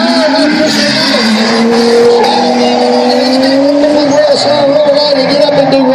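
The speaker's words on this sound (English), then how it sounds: "Ronnie getting good angle out of the R31." A Nissan Skyline R31 drift car slides at a drifting event at Archerfield, its engine droning steadily with tire squeal throughout, loud and continuous, while a commentator talks over it.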